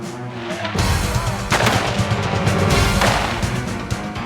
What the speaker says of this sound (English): Each rifle holds 30 rounds. They're being emptied fast.